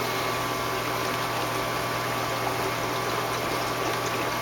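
An aquarium filtration pump runs with bubbles, giving a constant, fairly quiet hiss and churn of moving water with fine bubbling texture, steady throughout and with no one talking.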